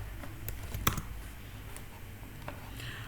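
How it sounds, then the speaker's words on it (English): Faint, sparse keystrokes on a computer keyboard, a few soft clicks with one sharper tap, quiet against low room noise and no speech. "Let's type Visual Code."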